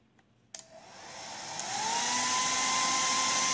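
A Havells HD W hair dryer with temperature control runs on its cold air setting. It switches on with a click, then a steady, loud airflow whoosh rises and settles with a faint motor whine, close up and alone.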